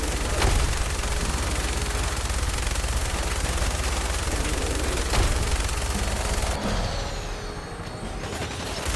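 Dense, continuous automatic gunfire in Fallout 4 as a large enemy is shot at, with loud rapid bursts sustained throughout and a brief dip near the end.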